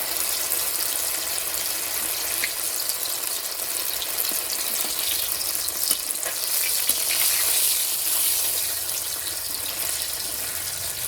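Food fries in a pan with a loud, continuous hissing sizzle close up, crackling steadily with small pops and scrapes throughout and no voices.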